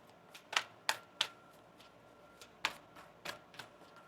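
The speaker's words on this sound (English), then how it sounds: "One more shuffle." Tarot cards are shuffled in a quiet room, giving a handful of sharp, crisp clicks and flicks in an irregular rhythm, close by and alone.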